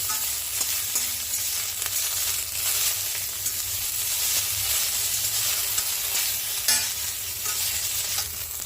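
Coriander leaves and green chillies stirred in a hot frying pan, an even crackling sizzle under occasional spatula scrapes and one sharper knock, close by and with nobody talking.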